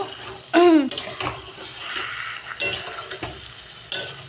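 Meat fried and stirred with spice paste in an oiled kadai, a close scraping stir and hot sizzle in loud bursts, with a brief voice-like sound near the start.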